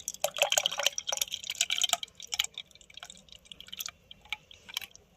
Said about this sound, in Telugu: చింతపండు పులుసు అయితే యాడ్ చేస్తున్నాను